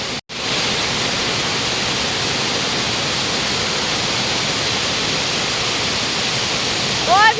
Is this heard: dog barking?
no